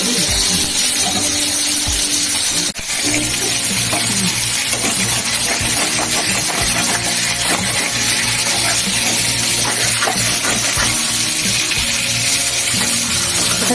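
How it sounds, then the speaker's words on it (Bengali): Bhetki fish fries in oil, a loud, dense sizzle and bubbling crackle that fills the whole stretch, with a quick sharp knock early on. "বেশি ভাজা হয়ে যাচ্ছে"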